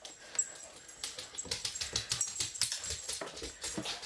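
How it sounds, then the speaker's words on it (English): A boxer puppy makes a run of small, scattered yelps and pattering noises at close range, faint and uneven, with no talk over them. "There goes my puppy with all his noise."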